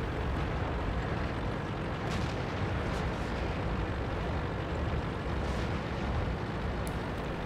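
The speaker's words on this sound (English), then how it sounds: "I'm being shot a bunch of times right now." Tank cannon fire and shell hits in World of Tanks, heard from inside a Chinese heavy tank as a dense continuous rumble of blasts and impacts with a few sharper cracks standing out.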